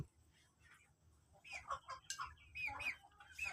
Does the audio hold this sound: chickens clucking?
yes